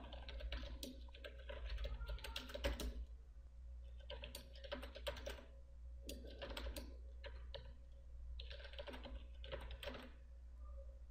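Keys on a computer keyboard clatter in quick bursts as a command is typed, several clusters of close, faint tapping separated by short pauses over a low steady hum.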